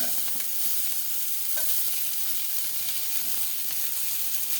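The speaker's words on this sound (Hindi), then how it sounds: "एक प्याज हल्का सौते हो गया है, तो अब मैं अपना गाजर डालूंगी" Carrots going into a pan with lightly sautéed onion and frying, a loud, steady, close sizzle with faint stirring scrapes and no break or voices.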